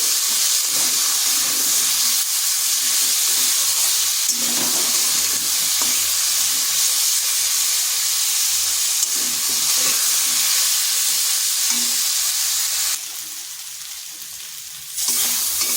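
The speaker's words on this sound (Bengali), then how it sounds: "এরপর আলু আর পটলকে একসঙ্গে আর একটু ভেজে নেব" Potatoes and pointed gourd fry in a pan seasoned with salt and a little turmeric, giving a steady, close broadband sizzle with soft stirring scrapes throughout, briefly louder and brighter near the end, with no voices.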